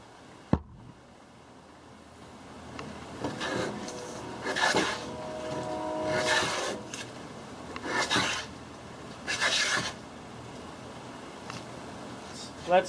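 A tuned-up Dunlap block plane taking a test cut on wood, with a sharp knock at the start, then five distinct rasping swipes at a slow, even pace, close by.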